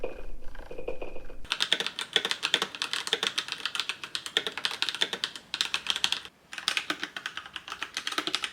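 Steady rapid typing on a Razer BlackWidow Elite full-size mechanical keyboard with yellow switches, a dense run of crisp key clacks after a brief quieter start, with one short pause near the end.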